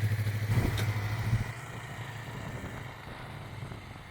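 A motorcycle on a rider training course pulls away quickly, its engine note pulsing loud up close for a second and a half, then fading into a softer distant drone.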